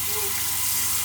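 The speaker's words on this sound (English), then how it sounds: "I can fill it up with my shower head." Water from a shower head in a camper rushes into a laundry container, a loud steady gush close by with no break.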